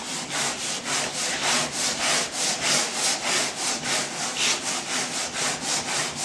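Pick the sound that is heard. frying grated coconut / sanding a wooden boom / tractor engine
sanding a wooden boom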